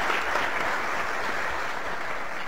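An audience applauds a panel of experts at an event on students and education technology, a dense, even burst of clapping that fills the room and holds steady throughout.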